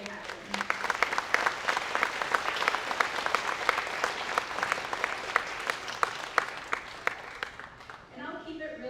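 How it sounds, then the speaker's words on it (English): Audience applause at a high school graduation ceremony, a dense, steady clatter of many hands clapping from close by, fading near the end as a voice begins speaking. "please take a minute to give them all a round of applause for making today happen"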